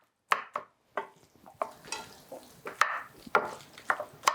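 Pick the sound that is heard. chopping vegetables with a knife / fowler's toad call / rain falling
chopping vegetables with a knife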